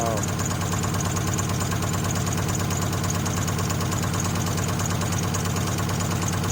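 An LS-swapped B-Body car engine idles close by with a loud, steady, slightly lumpy rumble. The exhaust note throbs with faint knocking, and the engine runs continuously throughout.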